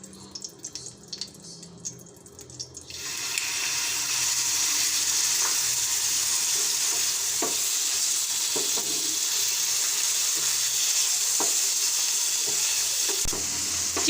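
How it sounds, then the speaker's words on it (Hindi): Chicken dropped into hot oil for chicken tikka pizza sizzles loudly and steadily, a broad constant hiss that starts abruptly after a few seconds of quiet kitchen clatter, with occasional stirring clicks. "चिकन को फ्राई करेंगे।"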